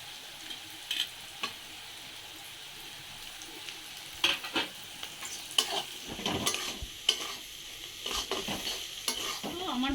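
Chicken and fish pieces stir-fried in a pan for restaurant-style mixed fried rice, with a steady sizzle and bursts of scraping and stirring against the pan, growing busier toward the end; no talking.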